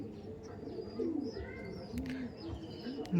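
Laldom pigeons in a loft coo softly and continuously, several birds overlapping in low, rolling calls with faint chirps nearby.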